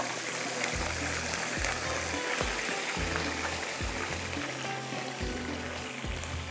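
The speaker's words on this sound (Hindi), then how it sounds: "हल्का सा इसको फ्राई करना है।" Garlic fries in a pan for bhuna qeema, giving a quiet, constant sizzling hiss with a soft low bubbling beneath it and no voices.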